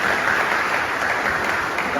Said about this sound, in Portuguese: Palmas para esse pessoal aí